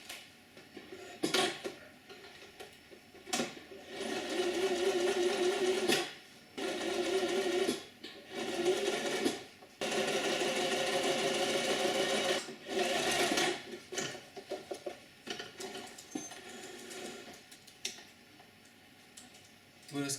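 A sewing machine stitches the side seams of a fabric face mask in several loud, close bursts of steady whirring and needle clatter. Short pauses with clicks break up the bursts.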